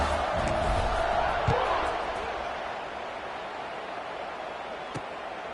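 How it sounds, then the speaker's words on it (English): A football stadium crowd murmurs and buzzes after a touchdown, a broad, steady roar that swells early and eases slightly, heard from a distance with a few faint thumps. "this crowd is buzzing after that last score"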